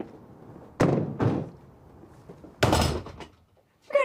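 A back door swinging shut at home gives a pair of dull thuds, then a louder, sharper slam with a short rattle, all close by with no talk.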